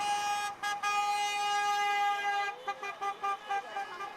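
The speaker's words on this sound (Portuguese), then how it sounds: "os veículos e motos que transitavam na BR-101 faziam um buzinaço em apoio ao movimento." Vehicles and motorbikes on the BR-101 highway honk their horns in protest, a long sustained blare followed by a series of short rhythmic toots, moderately loud over faint traffic noise.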